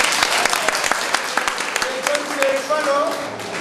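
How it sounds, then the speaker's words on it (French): An audience applauds new company managers at a promotion ceremony, with steady crowd clapping throughout, voices mixed in and a brief tonal sound toward the end. "Donc on va encore les applaudir très très fort."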